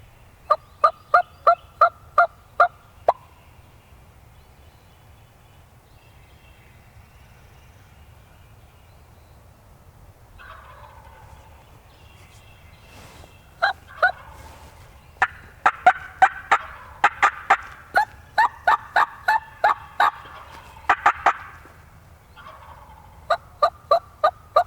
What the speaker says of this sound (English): The only time when they gobble actively is first thing in the morning